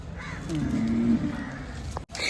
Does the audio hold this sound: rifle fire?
no